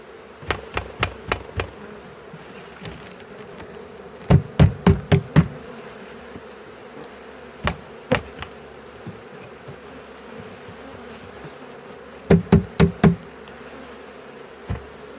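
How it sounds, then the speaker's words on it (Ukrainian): A low, steady honeybee swarm buzz hums throughout, dotted with sharp clicks and knocks that come in quick clusters. "Яка кількість бджоли?"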